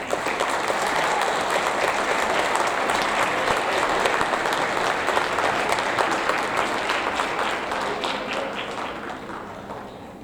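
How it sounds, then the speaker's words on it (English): Audience at a seventh grade awards ceremony gives a sustained round of applause for a group of award recipients, dense steady clapping that holds for about ten seconds and tapers slightly at the end. "Go ahead, round of applause for that group"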